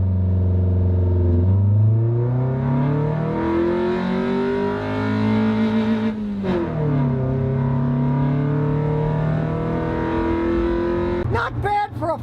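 A small rear-engined 102 horsepower Ford pulling away from a standing start, engine note climbing through several revving sweeps, close and steady, with a brief clatter near the end.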